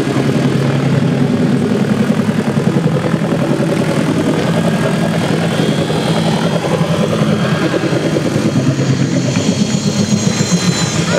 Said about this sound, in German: der Hubschrauber hat wirklich schwer zu schleppen. Kommt jetzt vorsichtig zur Landung herein.